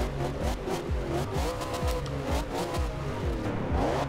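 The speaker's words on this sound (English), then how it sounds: "you get more exhaust noise" A 2015 Chevrolet Camaro Z/28 engine roars and revs in the racing game Forza Horizon 2, pitch sweeping up and down through gear shifts with tire squeal over a steady, loud exhaust drone.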